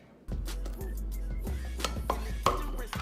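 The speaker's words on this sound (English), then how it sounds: "stir it up until it gets to a ball" Flour being stirred into hot water in a pot for churro dough, with steady scraping and clinking of a utensil against the pot and a few sharper taps, close and fairly loud.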